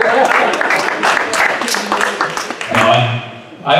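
An audience at a live comedy show in Delaware breaks into applause, a dense wash of clapping and cheers filling the room before fading, with a voice speaking over the end.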